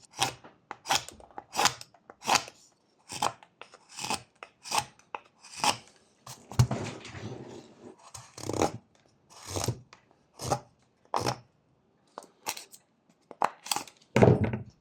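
Small whittling knife shaving wood while carving a miniature lion's face, a series of short crisp cuts and scrapes in an uneven rhythm, close and fairly quiet with brief pauses between strokes.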